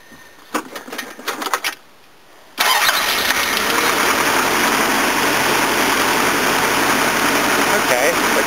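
A van engine is started cold: a short rapid cranking burst, a brief pause, then the engine catches and settles into a loud, steady, even idle close by.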